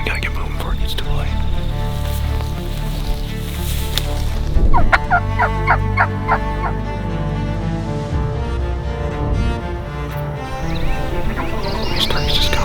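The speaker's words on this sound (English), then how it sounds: "Turkey finally just gobbled right here." Osceola wild turkey in Florida gobbling, a rapid rattling burst of calls rising in the middle, fairly distant over outdoor ambience, with people talking quietly around it.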